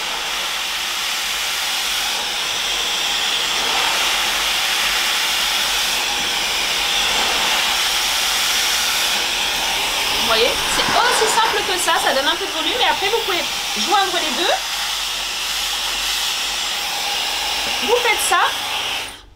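A steady, loud Revlon hot air brush hair dryer blows throughout, a broad airy roar, while someone talks over it with bursts of speech.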